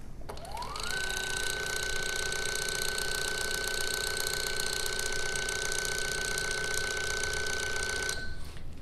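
A Signata CT-5 automated cell-processing system pumps formulation into a cryo bag, starting with a rising whine that settles into a loud, steady mechanical tone and hum before stopping abruptly.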